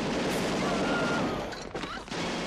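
A dense, continuous roar of explosive blasts and crackling destruction from the GoldenEye satellite weapon test firing in the 1995 James Bond film, loud throughout and easing slightly near the end.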